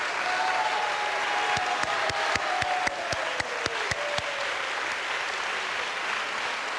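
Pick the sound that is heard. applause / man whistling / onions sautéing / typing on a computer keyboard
applause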